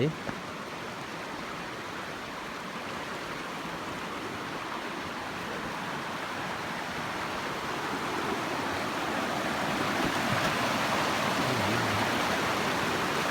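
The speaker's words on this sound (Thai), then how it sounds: "ทำให้เกิดเสียงน้ำไหล" Water streams steadily over large rocks in a forest stream in a continuous rushing babble that grows slightly louder toward the end, with no other sounds.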